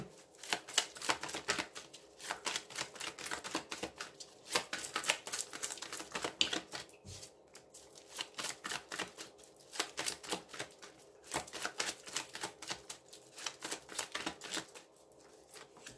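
Tarot cards shuffled and dealt in a steady run of crisp, papery riffles and flicks, close and fairly quiet, with brief pauses between bursts and no talking.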